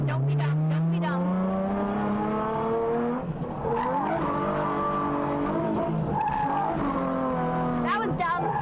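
A drift car on a track skids with long, loud squealing tires and a revving engine, the squeal rising and wavering in pitch, close and continuous throughout.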